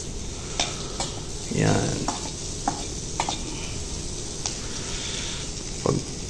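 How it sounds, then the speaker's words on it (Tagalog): Ginger and onion sautéing in cooking oil in a pan, a soft sizzle with stirring scrapes and a few clinks of utensils, one louder burst of frying midway, a brief word spoken. "kukuha natin ng mantika para sa panggisa ng ng luya at saka sibuyas"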